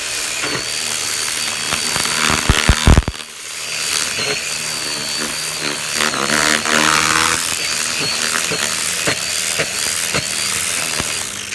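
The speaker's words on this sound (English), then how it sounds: "What I'm finding already is that it's best to keep the weed whacker down low." A weed whacker whines loudly and steadily, close by, as it threshes home-grown wheat in a small area, with brief bursts of rattling debris early on.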